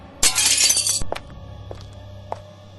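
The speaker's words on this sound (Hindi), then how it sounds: "अचानक कहीं एक शीशा फूटने की आवाज़ सुना दी।" Glass shatters suddenly in a haunted-house radio drama, with a loud crash and scattering bright fragments for under a second, followed by a few sparse tinkling pieces and small knocks in a quiet room.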